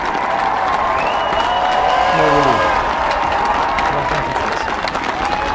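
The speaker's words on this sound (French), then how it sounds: "Les applaudissements" Loud crowd applause with cheering throughout at a speech, steady and dense, with a faint voice riding underneath.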